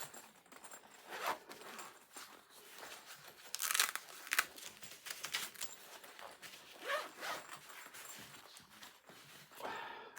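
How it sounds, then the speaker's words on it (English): Several quick zipper pulls, close and crisp, closing a pocket while unboxing a Comica WM100 Plus wireless microphone, mixed with fabric rustling and crinkling; no talking. "We'll zipper this pocket back up."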